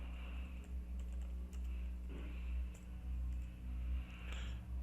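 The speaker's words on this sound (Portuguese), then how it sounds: "Aqui eu posso digitar normal." Faint keyboard typing on a computer during a computer class, soft irregular key taps over a steady low electrical hum, no voices.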